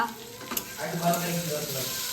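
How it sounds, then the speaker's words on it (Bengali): Fenugreek greens and potatoes fry in hot oil at a family get-together, a steady close sizzle with a few brighter crackles and faint background voices. "মেথি শাক ভাজা হচ্ছে এটা, আর ওদিকে বেগুনি হয়েছে, আলু ভাজা হচ্ছে"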